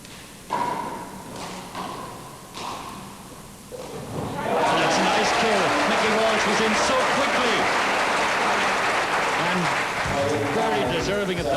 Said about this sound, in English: Deserving of that applause.